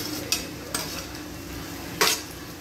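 Onion and tomato sauté in a pan for homemade pasta, a soft steady sizzle broken by three sharp clinks of a utensil against the pan, with no talking.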